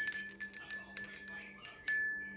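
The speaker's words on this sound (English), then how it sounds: "let's go ahead and ring the bell" A small bell is rung repeatedly to open a reading, a quick series of bright, clear metallic strikes with ringing tones that decay between hits, close and distinct with no talking.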